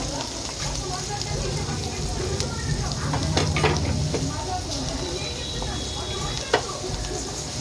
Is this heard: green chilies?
yes